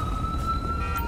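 An ambulance siren sounds in the police-patrol game GTA LSPDFR, a steady, sustained electronic tone over a low engine rumble, with no speech.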